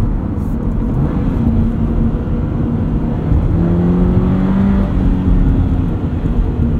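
Toyota GR86/Subaru BRZ engine blipping with quick throttle response, a steady close drone with short rising rev swells through the middle, heard alone without talk.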